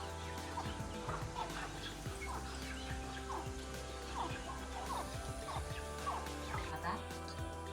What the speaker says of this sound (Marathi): सुकटीचं भुसं खावायला कोंबड्यांची गर्दी